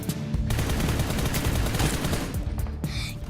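Gunfire from an attack on an enemy bunker in a video game, made up of loud, dense bursts of rapid shots with blasts layered over one another, continuous and close for the whole stretch.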